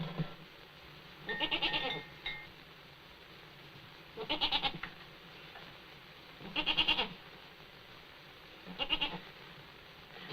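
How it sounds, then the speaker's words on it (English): A goat bleats four times in separate bursts spaced a few seconds apart, with quiet farmyard background between the calls and no talking. "But I don't know how to milk a goat."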